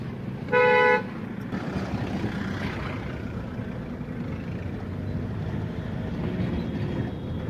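A Solis tractor's horn gives one short, loud honk near the start, then a steady engine rumble and road noise continue.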